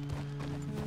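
Horse hooves clip-clop in the Red Dead Redemption 2 video game, a steady close walking rhythm of soft thuds under a low constant game hum, with no talk.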